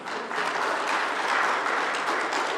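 Audience applause at the Supreme Ventures Group annual general meeting, a steady wash of clapping from a crowd that swells slightly and holds at moderate loudness throughout.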